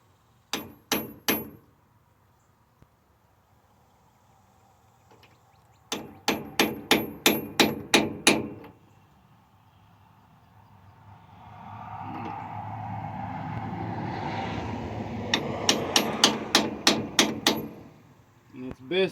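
A steering gear input seal on a 1996 Freightliner FLD 120 is driven in with a socket and hammer, sharp metallic blows landing in three quick bursts, with a brief stretch of talk between them.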